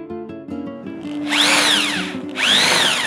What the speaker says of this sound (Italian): Ora con la punta da 13 svasiamo un pochettino l'ingresso